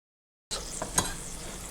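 A pan of pepper cooking for a black bean and rice dish: after a moment of silence, a steady close sizzle starts, with a couple of soft stirring clinks and no talking.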